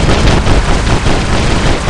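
Dense, loud gunfire rattles without a break in the War Robots video game as rounds pelt a robot, making a harsh, continuous barrage.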